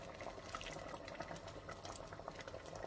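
Heated water poured into thick lentil soup as it cooks, a faint continuous bubbling and splashing of liquid with no voices.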